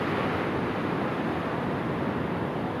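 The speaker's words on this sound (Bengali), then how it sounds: "এই দেখুন গেট খোলা রয়েছে, তল দিয়ে পাস হচ্ছে জল, চারিদিকে জল আর জল" Water rushes through the open gates of the Farakka Barrage, a steady, loud broadband roar with no pauses and a faint wind-like hiss over the top.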